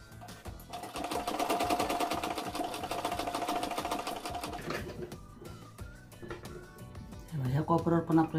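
A sewing machine stitching a katori blouse runs in a fast, steady whir of needle strokes for several seconds, then stops. Someone talks over and after it, and a brief burst of stitching returns at the end.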